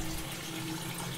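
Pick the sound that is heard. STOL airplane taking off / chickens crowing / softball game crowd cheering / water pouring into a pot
water pouring into a pot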